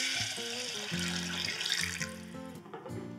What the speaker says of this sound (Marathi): आणि आता मिसळ आहे तर यामध्ये भरपूर पाणी आपण घालतो.